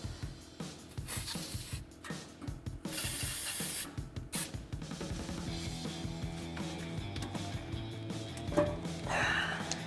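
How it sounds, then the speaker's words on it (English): Aerosol spray hisses in short bursts onto the rubber exhaust isolators of a RAM 1500, followed by scraping and rubbing of metal parts under the truck, fairly quiet and without talk. "we're going to spray down our last 2 rubber isolators"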